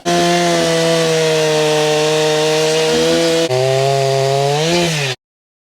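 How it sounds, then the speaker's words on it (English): A loud chainsaw engine running close by, steady high-revving drone that dips in pitch midway as it bites into a cedar knot, then cuts off abruptly. "So we'll just take the chainsaw and cut"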